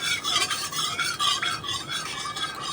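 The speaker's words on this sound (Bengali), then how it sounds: "তেলের মধ্যে ভাজা হচ্ছে" Paneer pieces fry in hot oil in a wok, giving a bright, pulsing sizzle with occasional scraping stirs, close and steady with no talking.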